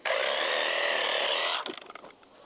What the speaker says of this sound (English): take my trusty Sawzall, and I'm gonna cut the head off